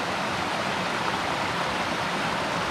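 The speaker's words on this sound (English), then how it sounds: "here comes Blue Magic crossing the river" The Middle Fork Snoqualmie River rushes steadily in a dense, unbroken roar of flowing water, loud and close, with no voices over it.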